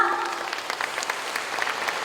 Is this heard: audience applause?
yes